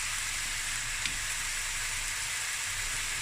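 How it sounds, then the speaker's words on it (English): Mutton pieces browning in a curry pot give a steady, fairly loud sizzle and crackle that runs throughout with no talk. "Then I'm gonna braise this till it's a bit more brown, not very brown, just light brown."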